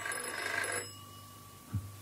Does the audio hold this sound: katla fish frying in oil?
no